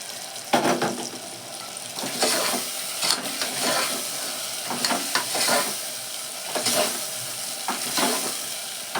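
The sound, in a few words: brinjal frying and sizzling in a pan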